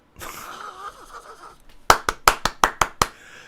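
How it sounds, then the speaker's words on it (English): About seven sharp claps in a steady, slightly uneven rhythm, loud and close, following a few seconds of faint breathy, muffled noise. "That's a clap of congratulations."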